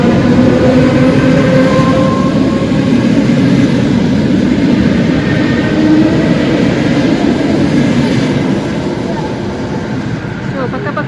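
An electric commuter train rolls past a station platform, a loud sustained rumble and rattle of wagons that holds steady and then eases slightly toward the end.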